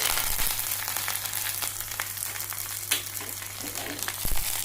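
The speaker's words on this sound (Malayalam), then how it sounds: "കടുകും മുളകും ഇതിലിട്ട് കൊടുത്ത് ഇതിലേക്ക് ലേശം കരിവേപ്പിലിട്ട് കൊടുത്ത്" Mustard seeds, chilies and curry leaves for moru curry spluttering in hot oil, a dense continuous loud sizzle scattered with crackles and pops, with a low hum beneath and a few stirring knocks.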